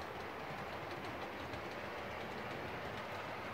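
An OO gauge model of the Mallard locomotive runs steadily along its track at a scale-like speed, giving a continuous close rail rumble and faint wheel clatter with no talking.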